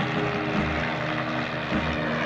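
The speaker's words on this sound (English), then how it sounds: "Can we have a copter coming in?" Helicopter flying in over a mountain, a steady droning rotor and engine hum with pulsing low thumps, fairly loud and continuous with no talking.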